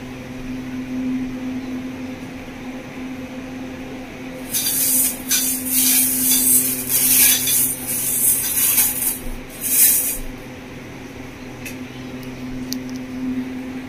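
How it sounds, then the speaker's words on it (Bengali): Water splashing and rubbing over whole black urad dal being washed in a bowl, a run of close, hissy sloshing bursts lasting several seconds over a steady kitchen hum, then fading back to the hum alone. "বন্ধুরা, ডালটাকে আমি ধুয়ে নিচ্ছি জল দিয়ে"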